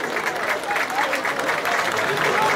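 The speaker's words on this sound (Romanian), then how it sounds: "Haideți să-i aplaudăm" Audience applause at an agri-food fair in Gherla: steady, fairly loud crowd clapping throughout, with a speaker's voice heard over it.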